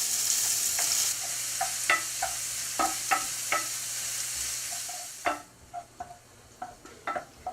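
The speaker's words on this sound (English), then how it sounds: "I'm going to cook 1 onion and 3 chili peppers that I chopped up" Chopped onion and three chili peppers fry in olive oil in a pan left from cooking steak, a bright sizzle under repeated close scrapes and taps of a utensil, the hiss dropping away near the end while the stirring continues.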